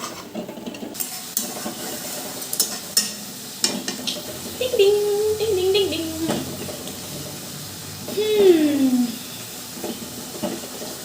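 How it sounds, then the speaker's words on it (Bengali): A cauliflower curry mixture is sautéed in oil. The close, steady sizzle is broken by sharp clinks and scrapes of a spoon against the pan, with a voice briefly sounding over the cooking. "দিয়ে এটাকে একটু তেল ছাড়া অবধি ভালো করে এটা একটু কষিয়ে নিতে হবে।"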